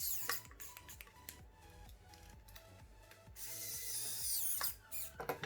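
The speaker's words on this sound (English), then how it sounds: "make sure those screws are lined up, and then screw that in" A screw being driven into a robot's motor mount with a small powered screwdriver, a rapid ratcheting whir in quick repeated bursts, close and fairly quiet, ending in a brief steadier run, with no talk.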